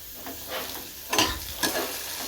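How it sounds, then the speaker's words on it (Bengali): Potatoes fry in a pan with a close, crackling sizzle, swelling into two louder bursts as they are stirred. "আর এদিকে হচ্ছে আলু ভাজা"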